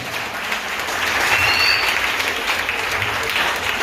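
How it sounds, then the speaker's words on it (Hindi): A church congregation applauds during a Hindi Bible sermon, with steady clapping that swells after the first second and holds strong to the end. "सीधा कमाल, तालियां हो जाए।"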